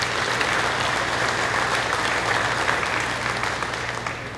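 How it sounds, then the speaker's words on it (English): A livestock sale-ring audience at a Sale of Champions claps steadily for event sponsors, a dense, sustained round of applause that holds at even loudness and thins slightly near the end, with a low steady hum beneath. "Let's give them a round of applause."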